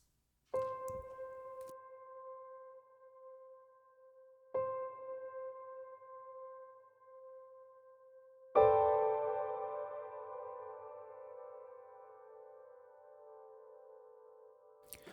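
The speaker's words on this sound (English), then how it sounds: "So that's a nice dense reverb with a little bit of modulation on it." Three piano notes and chords struck slowly, each ringing out into a long, lush, shimmering tail from a dense, slightly modulated Valhalla Supermassive reverb that fades gradually.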